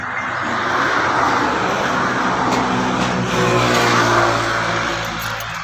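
A motorcycle engine with a worn, dry piston ring runs steadily up close, a loud, rough rumble with slight rises in pitch and no voices over it.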